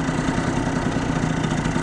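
A 70cc Yamaha Zuma scooter idles close by, a steady, even engine putter with a fast low pulse and no pauses.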